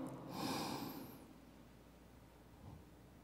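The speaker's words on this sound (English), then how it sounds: "take 3 deep breaths with me" One slow, deep breath drawn in through the nose, close and breathy, swelling over the first second and then fading, with a faint soft exhale or rustle near the end.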